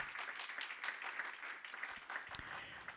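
A church congregation claps for the Lord during a worship service, a steady, dense patter of many hands that sounds faint and somewhat distant throughout.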